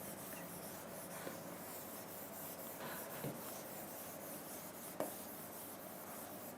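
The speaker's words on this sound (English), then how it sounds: "Let's erase some part" Steady, faint rubbing and scraping of an eraser wiping across a classroom board, continuous for several seconds with a few small knocks.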